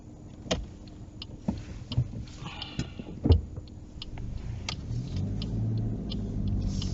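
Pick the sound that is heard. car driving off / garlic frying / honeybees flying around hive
car driving off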